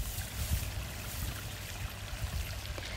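A small outdoor stream flowing steadily, a soft continuous rush and trickle with low gurgles, fairly faint and unbroken throughout.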